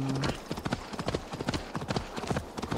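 Rhythmic clip-clop of horse hooves trotting steadily in the video game Assassin's Creed Valhalla, close and clear, continuing throughout.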